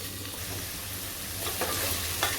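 Vegetables and masala sizzling as they are stirred and fried in a pressure cooker for pav bhaji, a continuous close frying hiss with soft scraping strokes.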